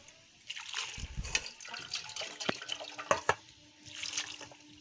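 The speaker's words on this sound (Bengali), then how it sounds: "এটা ভালো করে ঠান্ডা জল দিয়ে ভালো করে ধুয়ে নিতে হবে।" Jackfruit seeds are rinsed in cold water, with intermittent close splashing, trickling and clinking as they are rubbed and stirred in a bowl, soft and fairly quiet.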